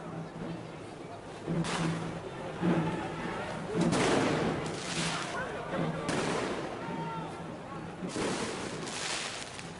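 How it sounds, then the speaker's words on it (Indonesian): Police warning shots crack out during a clash between two groups at a traditional ritual in Gowa, several loud sharp reports spaced through a noisy outdoor scene under crowd shouting and voices. "Tembakan peringatan polisi tidak dihiraukan massa 2 kelompok yang bertikai"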